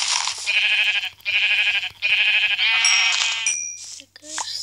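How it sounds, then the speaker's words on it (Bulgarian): Minecraft sheep give three loud, evenly spaced bleats close up, followed by shorter chirpy game blips and squeaks, all fairly clear and near. "О, имаш овце."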